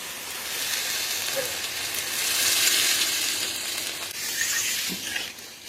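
Water goes into a sizzling puti fish curry with mustard paste and onion in a pan, making a continuous hissing fry with steamy swells that rise and fall, heard alone with no voices.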